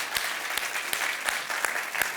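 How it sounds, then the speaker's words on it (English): A church congregation applauds, a sustained rush of clapping from many hands with a few sharper claps standing out at a steady pace, fairly loud and close. "One more time. Let them know your applause."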